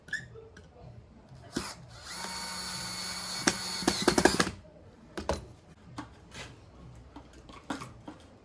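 Power drill driving 32mm screws to assemble a wooden tradesman's toolbox, a steady whirring burst of about two and a half seconds followed by short sharp knocks and clatters from handling the pieces.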